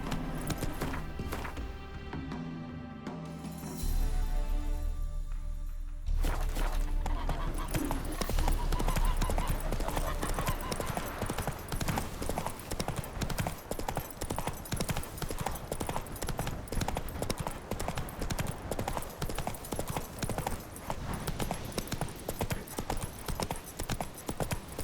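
Roach's hooves from The Witcher 3 pound in a fast, even gallop. The hoofbeats are loud and close and keep up a steady rhythm over a busy game soundscape for most of the stretch.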